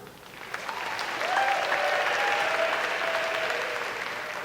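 Audience applause at a University of Cincinnati Bearcat Marching Band event swells from a light patter into sustained, dense clapping across a large crowd, with a faint tonal whistle or note drifting above it.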